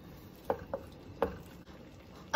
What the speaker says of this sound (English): Now I'm going to add in 4 cups of the chopped broccoli. And mix that all together.